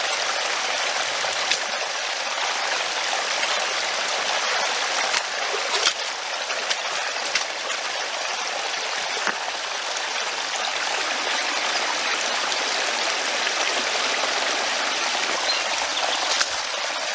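Stream water pours steadily into a spring water collection box, a dense, constant splashing rush with occasional sharper drips and no talking.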